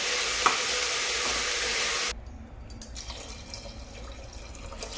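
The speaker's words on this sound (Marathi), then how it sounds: "थोडा वेळ जर आता ह्या भाज्या परतू देऊ" Vegetables sizzle loudly in a hot pan for two seconds, then the sound drops to a softer, irregular sizzle with faint clinks.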